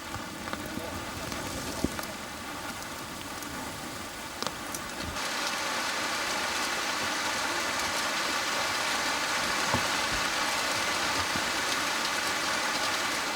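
Steady rain pours down with a dense hiss in a Zanzibar forest habitat of red colobus monkeys, growing heavier partway through, with scattered drops and occasional faint thumps.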